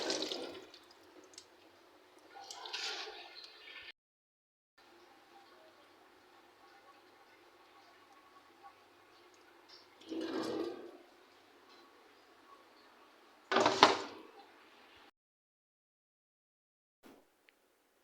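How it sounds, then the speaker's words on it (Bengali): Mulberries being washed in water, with short splashing bursts separated by quiet gaps, close and fairly faint. "এগুলো আমি ভালোভাবে ধুয়ে নিব কারণ এগুলোর ভিতরে বালি থাকে।"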